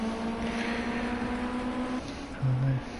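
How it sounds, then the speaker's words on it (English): A race car engine drones at a distance at Silverstone National on a wet track with puddles, a steady tonal hum that shifts pitch near the end, with no talk over it. "You hear Morsey's engine in the background."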